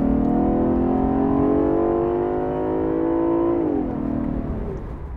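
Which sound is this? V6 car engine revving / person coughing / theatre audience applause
V6 car engine revving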